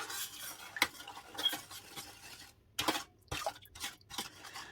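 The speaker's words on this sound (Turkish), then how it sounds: "Şekerimizi ekliyoruz. Ve eriyene kadar karıştırıyoruz." Sugar and water are stirred in a pot on the stove until the sugar melts, with a spoon scraping and clinking against the metal in uneven bursts and short pauses, and no voices.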